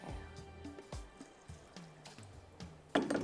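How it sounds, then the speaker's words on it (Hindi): Water poured into onions cooking in a pan for lemon butter chicken, giving soft liquid splashes and a brief louder sizzle near the end, fairly quiet overall. "थोड़ा सा डालेंगे पानी"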